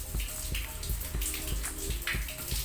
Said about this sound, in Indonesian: Kita coba pompa pendorongnya dihidupkan. Airnya tetap panas, tapi semburannya menjadi lebih kencang.